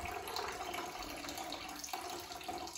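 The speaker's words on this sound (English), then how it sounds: "Look at that fancy pour." A Christmas cocktail is poured with a flourish, giving a faint, steady liquid splash and trickle throughout with no talking.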